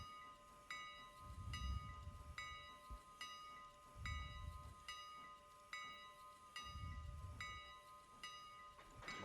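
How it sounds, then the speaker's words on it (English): A big train rolls along in the video game Railroader, a low rhythmic rumble swelling every couple of seconds under a steady tonal whine and repeated metallic ticks. "Come on, big train."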